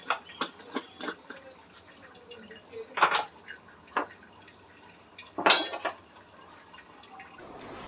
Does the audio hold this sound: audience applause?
no